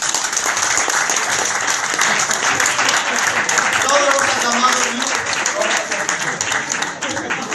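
Audience at a comedy open mic in Athens bursts into loud, sustained applause, a dense wash of clapping that carries steadily throughout with voices mixed underneath.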